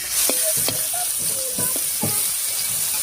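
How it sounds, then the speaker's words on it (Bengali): Spices tempering in hot oil beside prawns in a pan, with a loud, steady sizzle broken by scraping stirs and spatula knocks. "এবার মাঝখানটা ফাঁকা করে এখানে ফোড়ন দিয়ে দেবো।"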